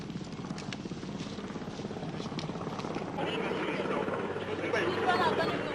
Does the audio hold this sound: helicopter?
yes